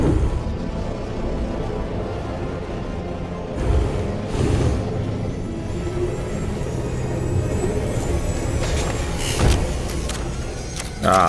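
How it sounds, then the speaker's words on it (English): Power winch pulling in Batman: Arkham Knight, a steady mechanical whine under a low motor drone, with heavier clunks and bursts near the start and the end. "The power winch."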